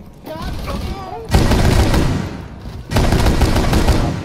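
Thermite breaching charge and gunfire in the tactical shooter Rainbow Six Siege, loud dense bursts of firing and booms that surge in two waves, with brief voice chatter at the start.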